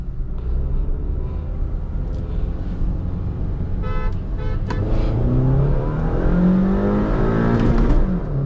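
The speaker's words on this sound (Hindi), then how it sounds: "हॉर्न, मैं दे रहा हूँ।" Car horn toots in short bursts around the middle and near the end, sounding over the steady rumble of an idling and revving car at the start of a drag race between a Hyundai Verna and a stage 1 Honda City.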